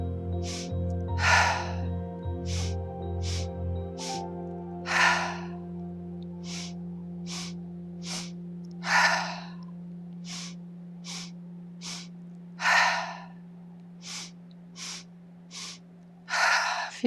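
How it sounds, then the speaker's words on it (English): Guided deep breathing exercise: a series of close, audible breaths, sharp inhales and longer exhales, repeating at a steady pace through a quiet room with a faint low hum beneath. "Inhale, inhale, inhale. Exhale, inhale, inhale, inhale, exhale."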